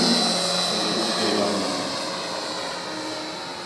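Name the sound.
RC Albatros WWI biplane with built-in engine sound system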